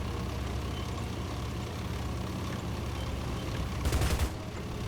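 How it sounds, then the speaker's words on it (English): Machine gun fire from a tank in War Thunder gameplay: a short, loud burst of rapid shots near the end, above a steady engine rumble. "Yes, machine gun."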